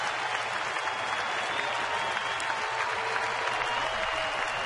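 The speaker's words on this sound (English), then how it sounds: "Now the Padre fans starting to get loud." A Padres home crowd in a San Diego ballpark claps and cheers steadily during a Rockies game, forming a dense, continuous wash of applause with no clear voices.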